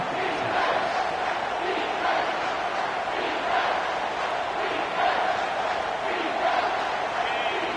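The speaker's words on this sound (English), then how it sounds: "The crowd getting behind this defense as they try to get a stop in the red zone." A stadium crowd in a Madden football video game roars steadily as the defense tries to make a stop in the red zone, its broad rolling din swelling in waves throughout.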